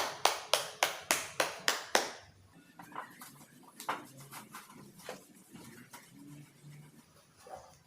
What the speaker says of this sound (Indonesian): Beri aplaus dulu kepada Haziza